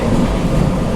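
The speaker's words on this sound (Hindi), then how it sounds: "बाहर जो ट्रेन का ट्रैक साउंड आ रहा है" Vande Bharat Express running on the Konkan Railway line, heard from inside as a steady loud rumble of wheels on rails with faint rhythmic clatter, continuous and close.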